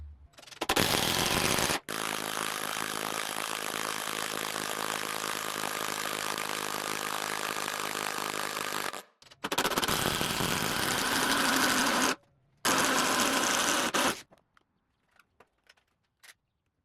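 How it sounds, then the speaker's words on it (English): Impact driver boring holes with a 1 1/4 inch tri-fluted bit for a DIY power rack, a loud steady whirring burst, then a long sustained run with hammering buzz, followed by two shorter bursts and silence. "Drilling the holes with an impact driver is taking way longer"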